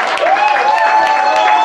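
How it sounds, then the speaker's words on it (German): Audience applause at a German carnival-style charity show for children, a dense wash of clapping that stays loud and steady throughout, with tonal music or voices running underneath. "Wir haben einen riesen Applaus."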